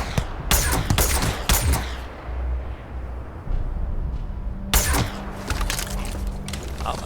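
Gunfire in the Starfield video game, several sharp loud bursts of shots in quick clusters at the start and again later, separated by a rumbling, quieter stretch.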